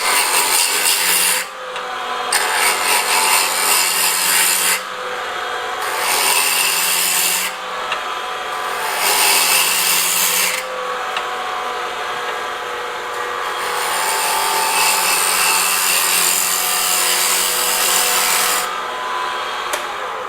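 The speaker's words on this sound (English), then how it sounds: "So the cut I'm going to make is a shearing cut coming out in this direction." Woodturning gouge making a shearing cut across the bottom of a wooden bowl on the lathe, a steady close rasping scrape over the motor hum, broken by several brief pauses as the tool lifts off.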